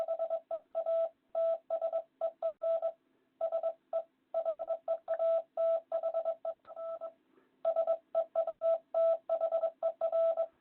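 Morse code spelling the word Heather, sent as a clear tone of short and long beeps repeated in a steady rhythmic pattern with brief gaps between repetitions, moderately loud and alone.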